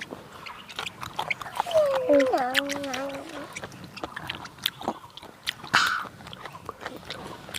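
Crunchy fresh raw squid being bitten and chewed up close, with irregular crisp crunches and wet chewing sounds, while someone speaks over part of it.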